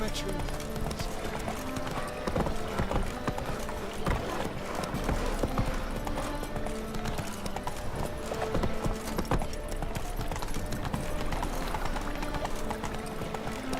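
Horse hooves clip-clop steadily at a gallop across a game soundscape in The Witcher 3, the rhythmic thuds continuing throughout amid background music and scattered voices.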